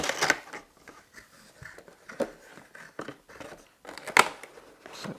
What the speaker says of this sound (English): we'll go straight ahead and get this unboxed,